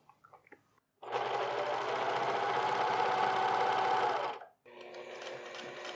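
Sewing machine stitching a pair of shorts, a rapid close mechanical whirring run of about three seconds, a brief pause, then another burst of stitching.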